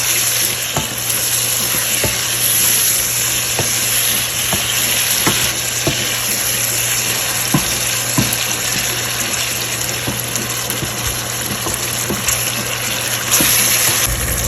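Tomatoes and onions fry in a pan with a steady, close sizzle, broken by regular clicks and scrapes of stirring, with no talking throughout.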